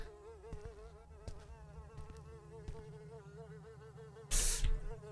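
Insects buzzing in a horror video game set in an abandoned house, a steady wavering drone of bees swarming throughout with a few faint clicks and a louder burst of noise near the end.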